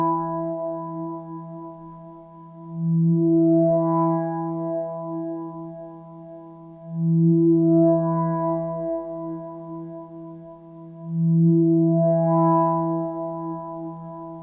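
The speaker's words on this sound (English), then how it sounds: "The only other musical sound I've got in here is a drone that's coming from Silent 1" A soloed ambient synth drone from Silent 1 holds a steady harmonic tone that swells in three slow, evenly spaced pulses, with nothing else playing.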